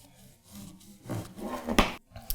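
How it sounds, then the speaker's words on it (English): A knife saws through a soft but firm loaf of homemade white sandwich bread, giving a rough, rasping stroke that builds and then finishes with a sharp crunch near the end, close up and with no talk. "if you have a nice sort of soft but firm loaf, the slicing goes"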